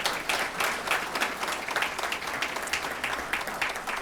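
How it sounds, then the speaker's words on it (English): A crowd at a college foundation gala applauds the trustees, a dense, steady burst of many hands clapping that holds for several seconds. "A round of applause."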